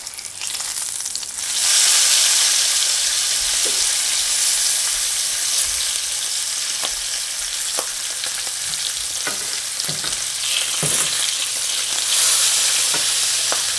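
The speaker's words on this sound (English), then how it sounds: "As soon as this egg's done, I'm just gonna throw it right here. Flip the bacon." Egg and bacon frying in a pan for a breakfast sandwich give off a loud, steady sizzle with occasional scraping and tapping of a utensil, close up and without talk.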